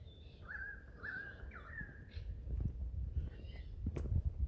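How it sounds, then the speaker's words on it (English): A pied currawong calls in Australian bush, giving a few ringing, whistled phrases at moderate distance over rustling and low background noise, followed by a sharp click or knock near the end. "it's a pied currawong."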